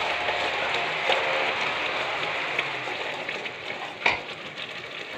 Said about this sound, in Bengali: নাড়তে নাড়তে যখন শুকিয়ে যাবে